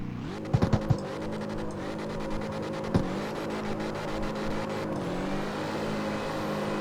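A front-wheel-drive Honda Civic race car launches in the CarX Street video game, its engine droning steadily with a few sharp shift clicks early on and a brief spike near three seconds, loud and continuous throughout.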